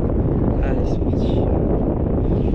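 Wind buffeting the microphone during jig fishing from a paddleboard in a fairly strong southwest wind, a steady low rumble running through the whole stretch with a faint hiss above it.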